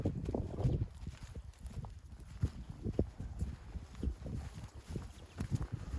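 Clopping hoofbeats from an 11-month-old filly walking and shifting on hard ground, uneven and fairly close, with scuffing between steps.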